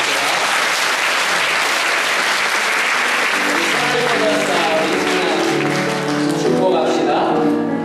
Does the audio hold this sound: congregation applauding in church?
yes